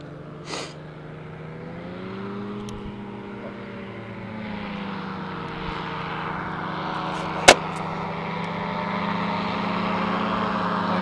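A powered parachute flies past over open ground near Springfield, Nebraska, its propeller engine giving a steady, fairly loud droning hum with a slowly shifting pitch, heard alone without voices.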